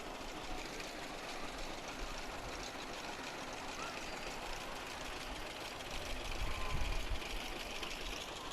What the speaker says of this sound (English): Bob Wanninger has a 1938 John Deere G tractor.